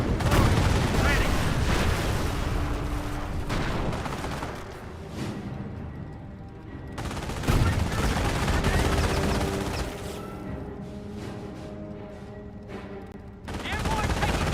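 A D-Day battle in a video game: dense rattling machine-gun bursts and rifle fire with heavy booms, loud and chaotic in waves, with shouting voices mixed in among the shots.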